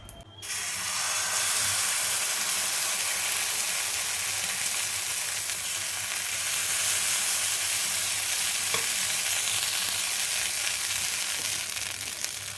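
Jowar uthappam batter made from jowar idli batter fries in an oiled pan, giving a loud, steady, continuous sizzle and hiss close by, with no talking.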